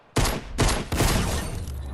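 Shotgun blasts in a video game, three heavy booming shots in quick succession, loud and close, the last one trailing into a lingering echo.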